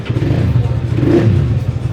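A twin-cylinder motorcycle with an automatic transmission idles loud and close with a throbbing, lumpy low-pitched beat, swelling slightly as the throttle is blipped.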